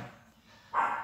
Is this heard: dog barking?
yes